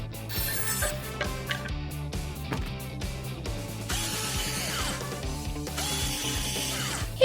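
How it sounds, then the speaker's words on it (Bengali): A power driver whirs steadily throughout while screws are fastened during a home build, with a dense, continuous mechanical drone and brief higher ratcheting bursts, and no talk over it. "আমাদের শুধু কয়েকটা স্ক্রু আটকাতে হবে"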